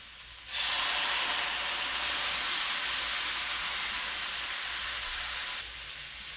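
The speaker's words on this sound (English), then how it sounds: "We're going to go ahead and deglaze with some cooking wine" A hot pan deglazed with plain sherry cooking wine during cooking, bursting into a loud, steady hiss and sizzle that holds for several seconds before easing off, with no talking.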